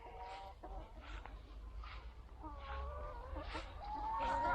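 Several chickens in a clover patch on a village farm cluck and murmur softly at a distance, overlapping calls rising and falling over a steady outdoor background hum.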